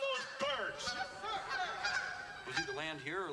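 Goose honking in a film scene, a string of loud, nasal honks with rising and falling calls, several overlapping and repeated through the moment, with no talking.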